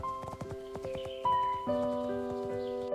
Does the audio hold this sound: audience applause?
no